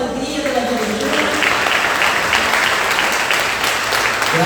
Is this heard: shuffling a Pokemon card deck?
no